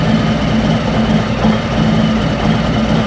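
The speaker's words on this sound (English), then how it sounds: "Idling is right at 80 decibels." A Harley-Davidson motorcycle fitted with a new aftermarket exhaust idles steadily, a loud, close, continuous low rumble with a pulsing beat throughout.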